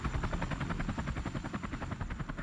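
Helicopters flying in during the Vietnam War, heard as a loud, continuous rhythmic rotor thumping that fills the whole stretch without pause.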